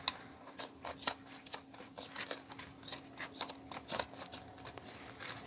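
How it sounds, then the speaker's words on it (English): Scissors snipping around a handmade fake pie craft, a quiet series of short crisp cuts in an uneven rhythm, close up against a soft background hum. "So I'm taking my scissors,"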